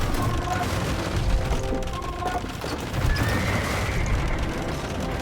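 Mangonel shots striking units in an Age of Empires II match, with heavy thuds and crashes layered over constant battle din, horse whinnies and clattering combat noise, loud and busy throughout.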